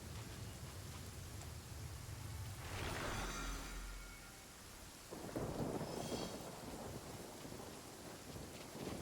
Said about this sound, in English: Many people dread the sound of The thunder.